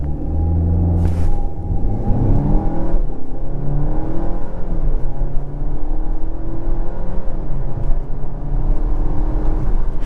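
A 2023 Dodge Hornet GT Plus SUV with a 9-speed transmission accelerates hard. A loud, continuous engine rumble rises in pitch through several gear changes, with repeated sweeping climbs and drops as it shifts.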